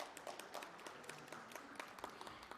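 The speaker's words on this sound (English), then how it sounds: "Let's give her a round of applause." Scattered applause from an audience at an ILO social protection conference, a thin patter of claps held at a low, steady level throughout.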